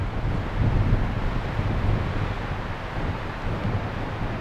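Strong wind buffets a microphone outdoors in extreme cold, about -29°C. It makes a loud, steady low rumble with gusty surges and no speech.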